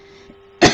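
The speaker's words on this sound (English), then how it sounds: "I'm still getting this a little bit like a winter's kind of a cough here" A single sharp cough bursts out at the end after a quiet hum, one short loud hack from a man with a lingering winter cough.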